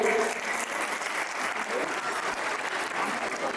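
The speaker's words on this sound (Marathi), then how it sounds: "एकदा जोरात टाळ्या होऊन जाऊया." An audience at a school annual day performance breaks into steady, loud applause that carries on for several seconds at an even density, without talking.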